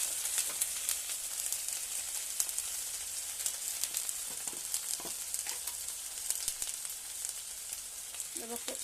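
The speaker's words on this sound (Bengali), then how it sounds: "পেঁয়াজটা ভাজা হয়ে গেছে, এবার দেব আদা পেঁয়াজ রসুনের পেস্ট" A stone-ground ginger, garlic and onion paste fries in oil with a soft, steady sizzle and scattered crackles, close but fairly quiet, with a faint voice now and then.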